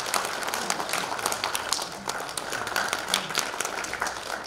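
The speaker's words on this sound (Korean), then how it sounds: "우리 박수로 맞이해 주시기 바랍니다." Audience applause welcoming a speaker to the floor at a Korean political party's constitutional reform debate forum, a steady dense wash of many hands clapping throughout, moderately loud and sustained without pause.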